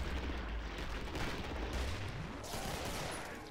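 Gunfire in the video game Killing Floor, a dense, continuous stretch of loud shooting and explosive rumble that fills the whole span with no pauses between shots.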